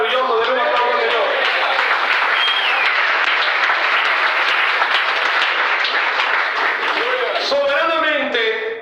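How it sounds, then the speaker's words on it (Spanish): Church congregation applauding together, a loud, dense, sustained wash of clapping lasting several seconds, with a voice speaking at the start and again near the end. "Denle un aplauso al Señor"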